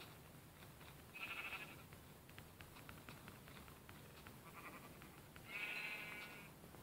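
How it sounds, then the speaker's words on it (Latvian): A sheep in Minecraft bleats twice, a short nasal call followed a few seconds later by a slightly longer one, faint against a steady hissing background with no talking. "Un ko es redzu? Aita."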